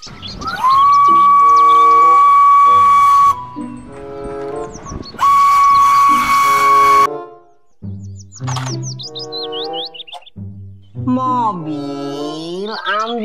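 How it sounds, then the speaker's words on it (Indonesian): A Thomas the train toy sounds off with an electronic steam whistle and tooting tones, loud and close, in bursts broken by other chirpy electronic toy sounds. "Kereta Thomas."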